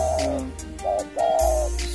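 A tame spotted dove (tekukur) gives a few soft, rhythmic coos close by, in short repeated phrases over a low background hum.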